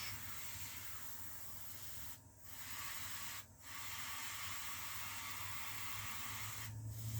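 Airbrush spraying paint onto a 1:72 scale Tornado model from about two inches away, a faint steady hiss that cuts out in brief pauses as the trigger is pulsed on and off.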